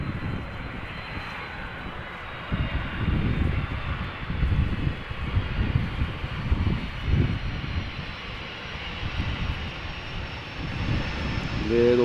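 An airliner lands at Amsterdam Schiphol in a crosswind, its engines roaring in idle reverse thrust. The broad jet rumble swells and holds from a distance, with wind buffeting the microphone.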